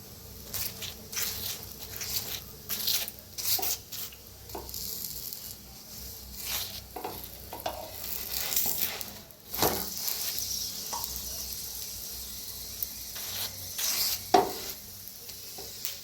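A paneer paratha fries in oil on a pan, giving soft crackling sizzles and intermittent scraping and turning noises at close range, with no talking.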